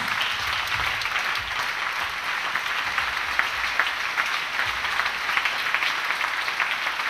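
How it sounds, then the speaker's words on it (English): A church congregation claps steadily for several seconds, a dense continuous patter of many hands filling the room at a fairly loud, even level with no speech. "Begin to clap for Jesus Christ."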